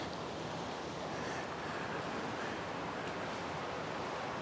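Steady broadband rush of a good-sized creek flowing near a waterfall, a constant close roar with no breaks and no voices.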